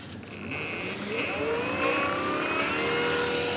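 A small electric motor spinning a larger propeller on a test bench whirs up in pitch as the throttle opens, with a steady high whine and rising tonal sweeps, close and alone.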